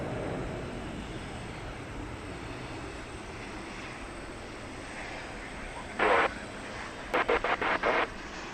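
A Boeing 737-800 jet on the runway at DFW Airport at night produces a steady, distant engine roar, interrupted by short bursts of radio transmission.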